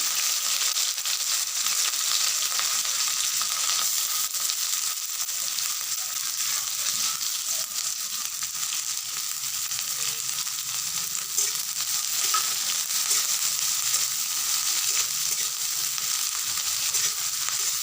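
Chopped onions and black cumin frying in hot oil in a pan, a continuous bright sizzle heard close up with faint stirring noises underneath throughout.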